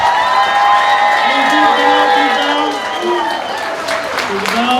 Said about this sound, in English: And one more round of applause for them.